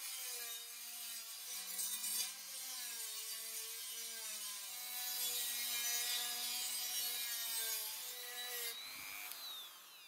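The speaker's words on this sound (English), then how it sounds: "I use my Dremel with a sanding disc to smooth down the surface and make it all smooth and shiny." Dremel rotary tool with a sanding disc smoothing a copper gasket for a Kawasaki Z1 Super Six engine, a steady high whine with a gritty grinding edge, close and continuous, pitch dipping and recovering as the disc bears down.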